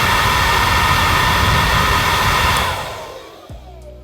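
A Forte Series Pro hair dryer blows with a loud, steady rushing whir, then switches off and winds down, leaving a faint low hum at the end.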